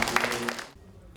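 Audience applause at a Buddhist temple ceremony, honouring lay temple staff as they present a donation pledge: a short burst of clapping that stops abruptly, with a faint voice tone beneath.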